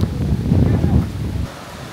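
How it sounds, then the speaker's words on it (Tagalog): Strong wind buffeting the microphone in heavy low rumbling gusts on a boat tour in El Nido, Palawan, loudest at first and then easing a little. "malakas ang hangin."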